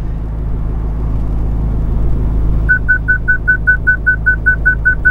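Ford Ranger pickup truck moving forward: a steady low engine rumble, joined halfway by a regular, evenly spaced electronic beeping, like a parking sensor warning, repeating over the engine.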